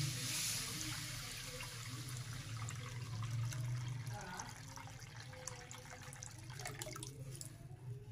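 Water pours steadily into a saucepan for a Turkish chicken soup: a continuous close splashing and gurgling stream that runs for the whole stretch.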